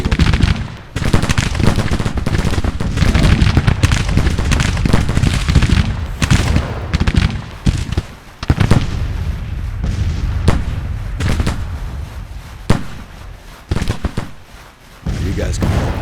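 Musket volleys and scattered gunfire fill a Civil War battlefield in the video game Grand Tactician: The Civil War, with crackling shots in repeated bursts over a rumbling din and a voice now and then.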